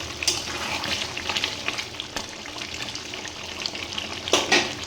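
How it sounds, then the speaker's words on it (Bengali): Meat sizzles and fries in a pan while being stirred, a dense, continuous crackling hiss with scraping stir strokes and a louder burst near the end, close and without talk. "মাংসটা এবার কষাতে হবে"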